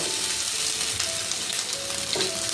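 Grated coconut is sautéed in hot ghee with cloves and cardamom for sweet coconut rice, giving a continuous loud sizzle with soft stirring scrapes, with no talk.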